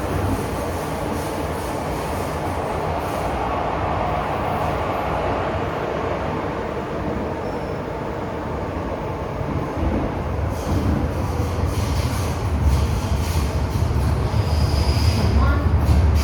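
An MTR Tsuen Wan Line M-train rumbles steadily into Tsuen Wan terminus, a continuous loud rolling roar from inside the car with faint wheel squeal and a deepening low drone as it slows.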